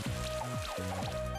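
An Acid Rain attack effect in the Monster Sanctuary video game gives splashy, dripping, rain-like bursts that pour down over steady game music for about a second and a half.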